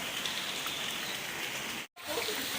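Heavy rain falling in Chennai, a dense, loud, continuous hiss of downpour close by, cut by a brief moment of silence before it resumes.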